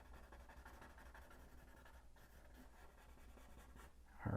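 Pencil drawing on paper smudged to darken shading, a soft continuous rubbing and scratching close up, faint and steady.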